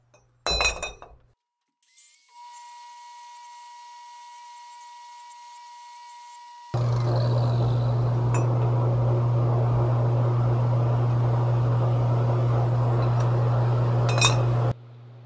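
An angle grinder fitted with a surface finishing disc polishes steel: a brief clatter and spin-up, a steady whine, then a loud, constant grinding roar that holds for several seconds before cutting off.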